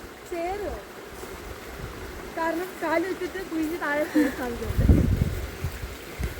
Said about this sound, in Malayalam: ചേമ്പിൽ നിൽക്കുന്നതുകൊണ്ട് വെള്ളം ഒഴുകുന്ന ഒച്ച കേൾക്കാം